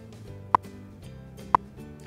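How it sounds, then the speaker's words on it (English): WWV shortwave time signal from the National Institute of Standards and Technology: two sharp, evenly spaced second ticks about a second apart over a steady hum and faint background tones. "That's the sound of a government radio station called"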